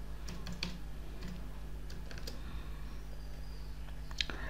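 Java code is typed on a computer keyboard in quiet, irregular bursts of key clicks over a low, steady hum, with a louder click near the end.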